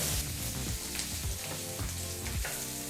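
Chopped capsicum frying in oil with other ingredients for a hotel-style bisi bele bath, a steady dense sizzle with occasional stirring scrapes, close and loud throughout without any talking.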